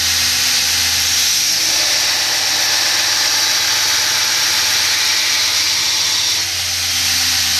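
A bench grinder or belt grinder shaping the tang of a knife made from round bar stock, giving a steady, loud high-pitched whine and hiss that runs throughout, with a slight dip near the end.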